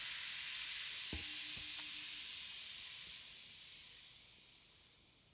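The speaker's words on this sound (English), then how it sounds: "So that was the baking soda and vinegar." Baking soda reacting with vinegar in a home science experiment gives a steady fizzing hiss that slowly fades over several seconds, with a couple of faint clinks early on and no voices.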